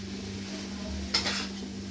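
A utensil scrapes and stirs meat and pre-boiled cabbage in a pan, one short distinct scraping stroke over a low steady hum of cooking.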